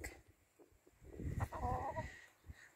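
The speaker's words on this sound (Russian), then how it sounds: "Вот она, эта курочка." A white hen of unknown breed clucks softly nearby, a few low murmuring calls rising briefly in the middle against a quiet background.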